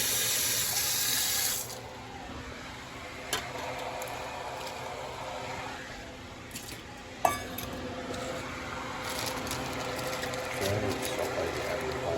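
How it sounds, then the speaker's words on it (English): Water runs steadily from a kitchen tap into a cooking pot, a continuous close splash with occasional clinks, and voices talking faintly in the background. "little more water, not a lot."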